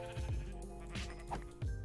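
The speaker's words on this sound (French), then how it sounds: "On va vite récupérer les moutons." Sheep in the Minecraft video game bleat in short, quiet blips, several spaced calls over a soft game background.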